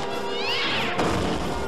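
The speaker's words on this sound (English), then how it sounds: "A vicious cat." A cat meows once over a film soundtrack, a short rising and falling cry heard clearly amid background music and effects.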